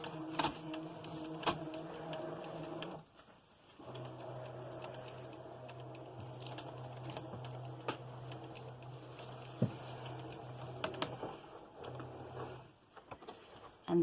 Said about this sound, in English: put the material to scan on the mat and set it to the machine, and then press start, and it's going to scan it